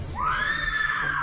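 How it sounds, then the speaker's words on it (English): A woman lets out a sharp, high scream in a hall, one sustained rising cry lasting about a second, loud and close over a low background rumble. "a sharper scream tears through the hall"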